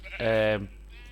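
A single Minecraft sheep bleats loudly and clearly for about half a second, a harmonic, wavering baa over a faint steady background hum.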